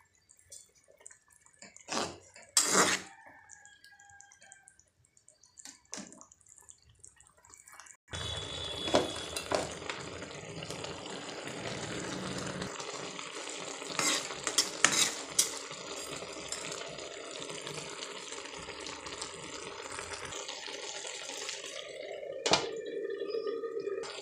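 River fish dropped into a pan with water and five kinds of leafy greens, a steady sizzling, bubbling simmer with occasional clinks of a spoon stirring against the pot, close and alone.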